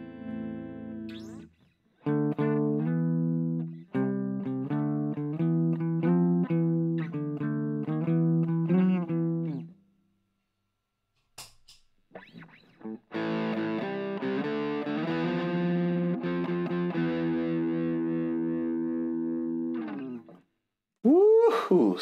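Electric guitar played through a homemade PCB-built Tube Screamer-style overdrive pedal, with a run of distorted single notes, a brief pause and a knob or pedal click, then sustained driven chords ringing out, loud and close.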